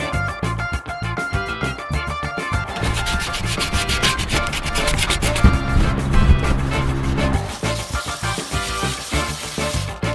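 Pieces for a custom camper van build are hand-sanded for better grip, producing quick, rhythmic abrasive rubbing strokes, loud and close throughout with no speech.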